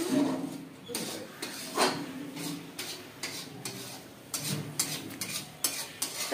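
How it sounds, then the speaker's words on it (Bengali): Onions and garam masala spices sizzling in oil for biryani, with a spatula scraping and stirring against the pot in repeated strokes, close and fairly soft, with a faint voice now and then. "তেল দিয়ে তার মধ্যে গরম মশলা ফোড়ন দিয়ে পেঁয়াজটা দিয়ে হালকা ভেজে নিচ্ছে"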